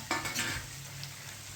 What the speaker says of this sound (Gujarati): હવે આ ટમેટા નાખ્યા.